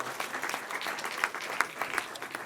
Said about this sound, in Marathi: त्यासाठी सुद्धा जोरदार टाळ्या होऊ देत